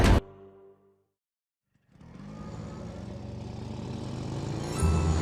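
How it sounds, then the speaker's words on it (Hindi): A motorcycle engine approaches as an audio drama effect: a low rumble starts after a brief silence and grows steadily louder as it draws nearer. "इतने में जगत के मोटरसाइकिल की आवाज आती है, जिसे सुनकर साफ पता चल रहा है कि वो उसी तरफ आ रहे हैं"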